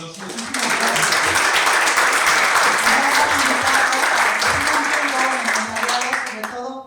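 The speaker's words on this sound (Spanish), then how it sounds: "Un fuerte aplauso." Loud, sustained applause from an audience at a Spanish-language tax and finance seminar, rising quickly and holding steady for several seconds before tapering off at the end.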